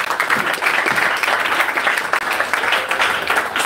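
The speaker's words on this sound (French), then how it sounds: "Applaudissez pour vous-même." A church audience claps in a dense, lively round of applause, loud and continuous with slight swells, filling the whole moment without talk over it.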